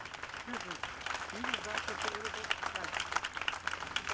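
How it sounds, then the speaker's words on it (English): Crowd applause at an outdoor rally and peaceful gathering in Peekskill, New York, a faint, steady clapping with voices and chatter mixed throughout. "Give them a round of applause."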